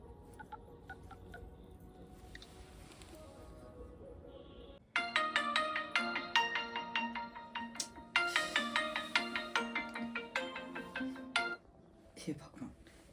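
A phone ringtone plays a bright, repeating melodic pattern in two loud bursts after quieter background sound, with a short gap between them and a few clicks at the end.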